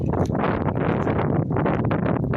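Strong wind buffets the microphone in continuous loud gusts on a foggy house roof during re-roofing, a rough roaring rush with no pauses.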